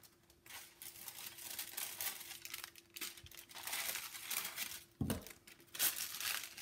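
Someone handles a small piece of paper in a woodworking setting, with soft crinkling and rustling that come and go at close range and a sharper crackle near the end.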